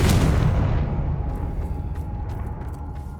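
A Confringo blasting curse goes off in Hogwarts Legacy as one loud booming burst at the start, its rumble slowly decaying under a faint steady tone and scattered small crackles.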